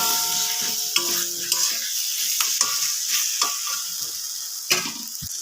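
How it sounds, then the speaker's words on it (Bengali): Eggplant frying with spices in a pan, with a continuous sizzle and repeated scraping, clinking stirs of a spoon against the pan, close up and without talk. "সব কিছু এবার ভালো করে একটু মিশিয়ে নেব।"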